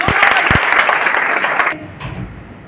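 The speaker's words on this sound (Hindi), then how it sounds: "एक बार जोरदार तालियां" Audience at a business seminar in Silvassa breaks into loud, dense clapping that carries on steadily, then suddenly drops away to a low murmur.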